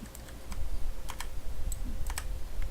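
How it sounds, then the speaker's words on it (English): Keystrokes on a computer keyboard while working in Unreal Engine 4, a handful of sparse, light clicks at an irregular pace, fairly close, over a low background hum. "I'm typing F, for those that doesn't know, type F equals to focus."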